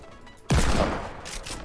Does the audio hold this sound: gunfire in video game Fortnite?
yes